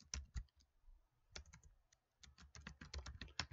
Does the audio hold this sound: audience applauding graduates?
no